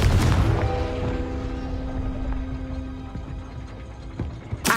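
A Confringo blasting spell detonates in Hogwarts Legacy, a loud opening boom that decays into a ringing, mechanical hum, followed by several smaller clicks and pops, with no talk.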